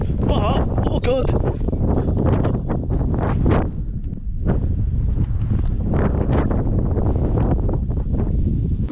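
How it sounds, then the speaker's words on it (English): Gusty wind on the Fife coast at Charlestown buffets the microphone in a steady roar while people talk nearby. "It's a little bit windy"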